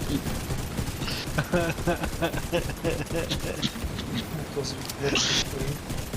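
Gunfire in The Division 2 crackles in rapid bursts of sharp, repeated shots during a boss fight, with a brief louder blast near the end, all under fairly quiet game noise.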